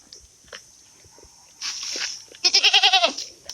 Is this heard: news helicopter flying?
no